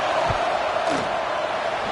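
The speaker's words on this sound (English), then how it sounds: "This crowd trying to do its part to get inside the kicker's head." A stadium crowd roars as a field goal unit lines up in College Football 26, a broad steady wash of crowd noise with a brief thump and faint voice underneath.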